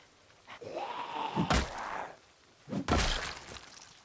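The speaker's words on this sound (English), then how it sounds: "And one banging on the fence over here." Zombie banging on a fence in the survival game Project Zomboid, two sharp heavy impacts about 1.3 seconds apart, with a low groaning moan drawn out before the first bang, all fairly quiet.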